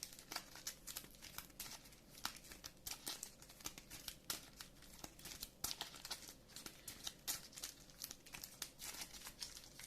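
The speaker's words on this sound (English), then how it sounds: "So let me shuffle the decks," Lord of the Rings card game decks being shuffled by hand, a dense run of crisp riffling and snapping card flutters repeating steadily and close up, with no talk.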